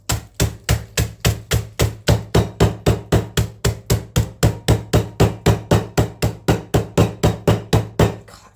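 Steady, rapid thumps repeat about four times a second, a rolling pin pounding food inside a bag, close and loud, with no talking.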